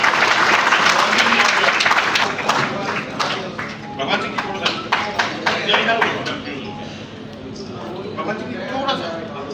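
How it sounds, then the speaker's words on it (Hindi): Applause from a crowd at a political party gathering welcoming a speaker, loud and dense at first, then thinning into distinct claps before fading under background voices. "सुखबीर जी वो आगे का स्वागत करेंगे तालियों के साथ।"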